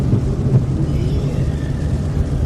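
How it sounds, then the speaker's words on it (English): Thunder rumbling during a lightning storm in Minnesota, a loud, continuous low roar that holds steady for the whole stretch, with no distinct separate cracks. "we've never heard lightning that's like instant, like just bam, bam, bam"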